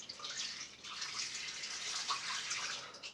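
Running water wets a shaving brush, a steady close splashing hiss that holds for about three seconds with a brief dip near the start.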